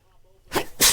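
A commentator sneezes twice in quick succession during a live wrestling broadcast; two sharp, close bursts follow a stretch of faint background chatter.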